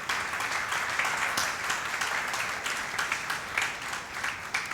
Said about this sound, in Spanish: agradezcamos con un fuerte aplauso